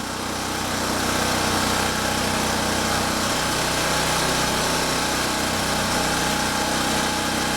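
A Champion generator's small engine runs steadily after a cold start in sub-freezing weather. It holds a loud, constant buzzing drone close to the mic throughout.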